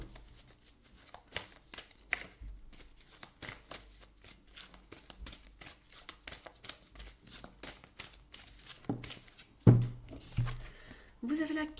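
Tarot cards are shuffled for a monthly Gemini reading, a soft papery riffle of rapid flutters that recurs through the stretch, close and moderate under faint background sound.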